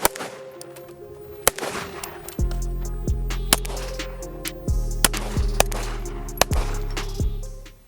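Rifle and pistol gunshots at a close-quarter marksmanship qualification shoot, a series of about ten sharp loud reports at uneven spacing, some in quick pairs, close by.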